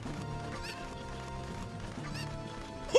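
Chickens in The Legend of Zelda video game cluck and squawk in short bursts over a faint game soundscape, ending with a sharp little impact.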